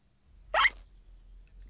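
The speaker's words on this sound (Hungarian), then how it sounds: "Baj van, Zsoli csuklása tönkreteszi a játékot." A cartoon piglet in Peppa Pig gives one sharp, sudden hiccup, loud and close, then quiet follows.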